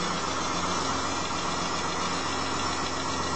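A rebuilt Mitsubishi Pajero V6 engine runs steadily after its test start, a close, even idle hum with a faint rhythmic knock and vibration, no voices.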